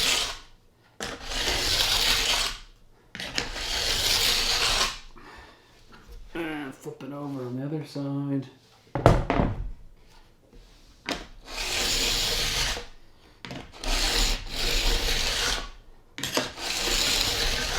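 Long, steady rasping strokes of a diamond file scraping along an edge, repeated in bursts, with a short pause while someone speaks.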